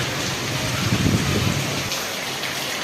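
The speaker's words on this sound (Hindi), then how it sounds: "साथ में हवा भी चल रही है, बारिश भी हो रही है।" Heavy rain pours down with gusting wind, a dense steady hiss that swells briefly and then eases slightly, with no voices.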